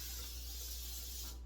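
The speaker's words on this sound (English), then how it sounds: "We got to spray the pan." Cooking spray hisses steadily from a can onto a pan for over a second, a bright continuous spray that cuts off abruptly near the end.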